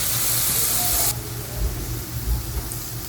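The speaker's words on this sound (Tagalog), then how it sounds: "Then, add the gata or cocoa milk." Coconut milk (gata) poured into a hot pan of cassava leaves gives a loud, steady hiss and sizzle for about a second, then drops to a quieter, low simmering bubble.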